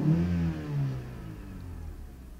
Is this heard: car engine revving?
yes